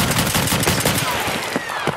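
Rapid gunfire rings out in Escape From Tarkov during a night raid, a dense run of sharp shots spread across two seconds, loud and close over a constant background rumble.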